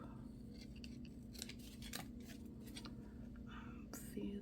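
Scissors trim small craft tags, giving a series of crisp snips close by over a low steady hum, with soft whispered talk in between.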